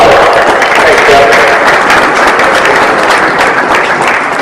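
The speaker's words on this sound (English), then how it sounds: "Ladies and gentlemen, Jeff Ward, give a round of applause." Loud, dense applause from an audience at a motocross gathering honoring Jeff Ward, sustained clapping throughout with crowd noise and some voices mixed in.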